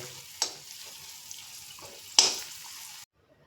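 Crumbled stale chapatis toasting in ghee in a pan on the stove: a soft steady sizzle broken by two sharp scraping stirs, then sudden silence as the heat is cut.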